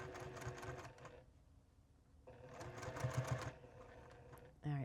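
A sewing machine stitching a scrappy rag quilt Christmas stocking, two close bursts of rapid mechanical whirring and needle clatter separated by a pause, with a soft clunk at the end.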